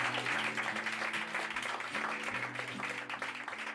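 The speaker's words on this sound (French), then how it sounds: "On applaudit aussi Alexandra, s'il vous plaît." An audience at a promenade event applauds steadily for about four seconds, a dense, even wash of many hands with a low sustained tone running faintly underneath.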